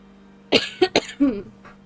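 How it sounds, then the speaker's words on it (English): A short burst of coughing during an online Final Fantasy XIV gaming session: several sharp, close coughs in quick succession followed by a rougher throaty rasp, with quiet game hum underneath. "That was a cough."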